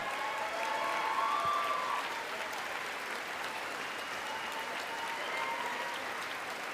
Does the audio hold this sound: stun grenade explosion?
no